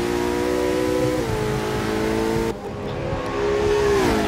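A race car engine at the Daytona endurance race revs loud and sustained, holding steady pitch with a couple of shifts and a brief dip midway, close and continuous with no talk.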